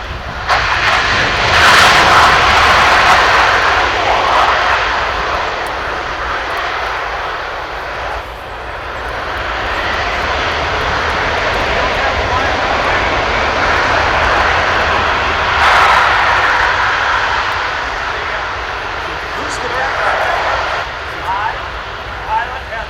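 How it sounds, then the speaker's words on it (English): A C-17 jet transport roars loudly as it lands at an airshow, a steady heavy engine rumble with swelling rushes, while a voice talks over it. "this is about as much noise as this airplane is ever going to make"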